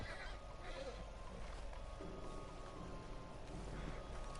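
Faint horse whinny from a stallion in Red Dead Redemption 2, a short neigh over a low steady game ambience, heard at a distance.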